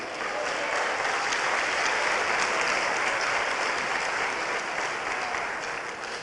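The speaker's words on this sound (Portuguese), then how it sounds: "Quem pode aplaudir a Jesus?" A congregation at a Christian family congress in a church hall breaks into sustained, dense applause, a loud steady wash of clapping from many hands lasting several seconds.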